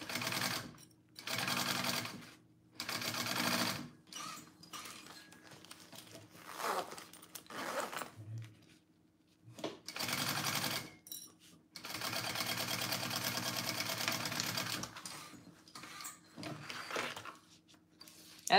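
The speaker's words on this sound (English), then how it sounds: "I'm sewing a New Kids on the Block bag." A sewing machine stitching a vinyl bag for a New Kids on the Block design runs in repeated bursts of fast, buzzing mechanical whirring separated by short pauses, close and fairly quiet with no talk.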